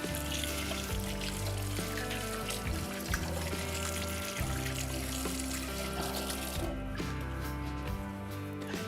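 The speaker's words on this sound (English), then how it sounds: "I'm going to wash off my hands." Hands being washed under a running kitchen tap: a steady, faint stream of water runs throughout, with a low hum underneath and no speech.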